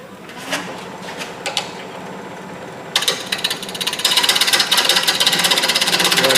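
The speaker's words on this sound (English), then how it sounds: "I'll take my skew slice negative rate scraper and we'll square that up" A negative rake scraper squares a tenon on a natural edge bowl spinning on a wood lathe. Quiet scraping with a few taps gives way to a dense, rapid chattering cut that grows louder and stays steady.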